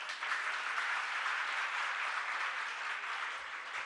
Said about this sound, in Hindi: ये ताली अगर बजानी है तो ढंग से बजाइए।